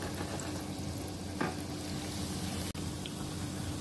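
Gulab jamun made from paneer and khoa frying in oil over a low gas flame, giving a steady soft sizzle and bubbling with an occasional light clink, close and fairly quiet.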